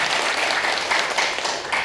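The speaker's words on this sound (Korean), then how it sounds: "힘찬 박수 한번 보내주십시오" An audience at a year-end evening gathering breaks into dense, sustained applause for about two seconds, with many hands clapping at once.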